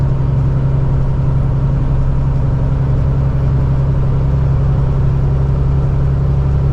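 A heavy truck engine pulls steadily at low RPM while hauling an oversize load near the Port of Baltimore, a loud, constant low rumble with a deep drone and no breaks.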